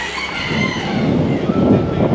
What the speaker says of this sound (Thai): ไก่แจ้ครับไก่แจ้